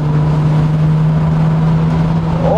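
A 1984 Jaguar XJS with a 5.3 litre V12 engine drives along with a smooth, steady low drone and a faint rising tone at the end, heard from inside the car with no talking.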